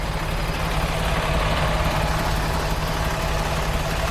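A truck engine idles steadily right beside the listener, a loud, constant low rumble with an even mechanical throb and no other sounds over it.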